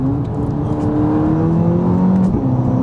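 A VW Polo GTI with a six-speed DSG gearbox drones loudly and steadily from close by, its engine note rising slightly as it pulls under acceleration, with no voices over it.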